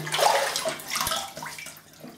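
Water running and splashing at a sink as whiskers are wetted before a wet shave, a close, fluctuating gush that eases off toward the end.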